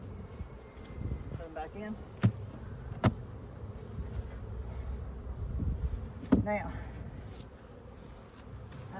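A continuous low buzzing of many honeybees hovering close by around an open hive during a spring inspection, with a person speaking briefly over it and a few sharp knocks.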